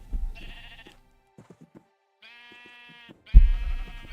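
Sheep bleating in a modded Minecraft game, three separate synthetic bleats spaced apart, with soft clicks of shearing and item sounds between them and a thump under the last call.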